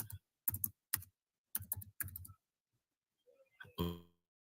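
Fingers type on a computer keyboard in quick bursts of clicks separated by pauses, close and fairly quiet, ending with a short rattle of keystrokes.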